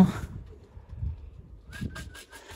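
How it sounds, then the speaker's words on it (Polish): Soft cooing of racing pigeons landing at their loft comes in short pulses, followed by a brief flurry of wing flaps near the end. "a gołębie już krzyczy, że siadają."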